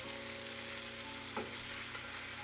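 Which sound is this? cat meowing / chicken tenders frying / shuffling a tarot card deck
chicken tenders frying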